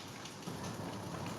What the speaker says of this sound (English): Yeah, it is the sound of rain.